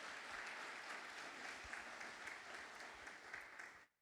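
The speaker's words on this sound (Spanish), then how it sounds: "Dale un aplauso al Señor." A church congregation at a Spanish-language service applauds, steady, even clapping from many hands heard somewhat distantly for about four seconds before cutting off abruptly.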